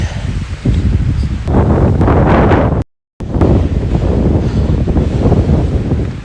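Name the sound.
strong wind on mountaintop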